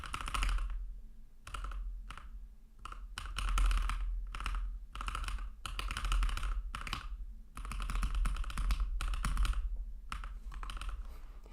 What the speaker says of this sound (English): Came for the virtual solve, stayed for the keyboard clicking.